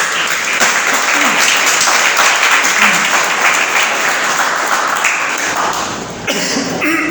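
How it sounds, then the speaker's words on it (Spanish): A church congregation applauds loudly and steadily in dense, continuous clapping that fills the space, tapering slightly near the end. "Si usted está listo, denle un aplauso al Señor."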